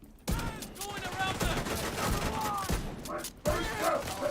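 Gunfire in a first-person video game: a dense stretch of rapid shots and impacts rolls on for several seconds, pausing briefly before another burst, with game sounds layered throughout.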